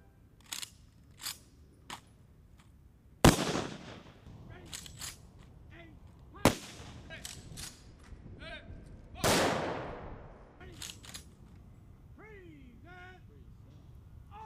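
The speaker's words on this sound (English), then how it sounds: "The officer in charge presents arms to initiate the rifle volley" A military rifle volley fired as funeral honors at Arlington National Cemetery: three loud, sharp cracks about three seconds apart, each ringing out with a long decaying echo, among quieter outdoor sounds, faint voices and clicks.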